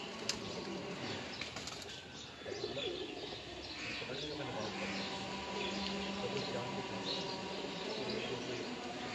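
Teddy pigeons of the Mian Nazir bloodline coo and flutter in a loft, with soft calls and wing flaps over a steady busy background and some low voices nearby.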